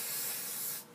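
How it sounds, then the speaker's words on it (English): Adhesive spray hisses steadily from a can onto skin during an ostomy pouch change, one continuous close burst that cuts off just before the end. "so you just spray this on."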